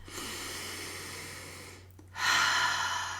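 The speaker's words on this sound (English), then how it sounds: "take a really big deep breath" A long, deep inhaled breath drawn in slowly, then a short pause and a stronger breathy exhale, close to the microphone over faint steady background hum.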